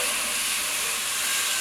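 Vegetables stir-fry in a hot pan for fried rice, giving off a steady, loud, unbroken sizzling hiss with no talking.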